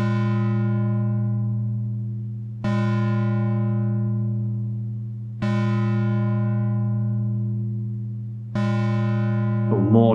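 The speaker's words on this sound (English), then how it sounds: "If I want more sustain on the bell, I just turn up the release." A modular synthesizer bell patch with a long release rings out in four evenly spaced strikes, each a bright harmonic tone with a sharp attack that decays slowly and sustains until the next strike retriggers it.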